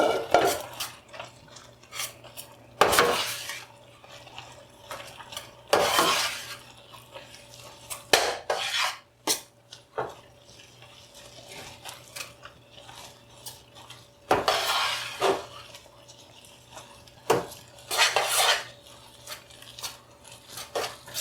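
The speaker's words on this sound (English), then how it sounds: "Lower the flame and add it slowly while you continue to stir" A spoon stirs cornmeal into okra in a cooking pot over a lowered flame. Scrapes and knocks against the pot come in irregular bursts, some loud and sharp, over a faint steady background hum.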